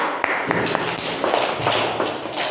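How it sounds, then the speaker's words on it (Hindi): Children clap in a classroom after a story is read aloud, a steady patter of many hands clapping at moderate loudness for a few seconds. "कहानी अच्छी लगी ताली बजाओ"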